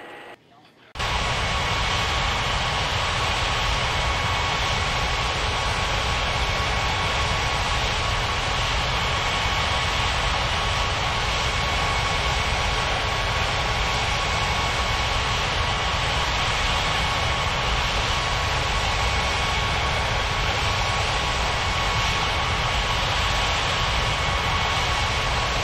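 Air France jet airliner on approach to land on runway 27, a steady, loud engine roar that holds almost unchanged after a brief quiet start, with no talk.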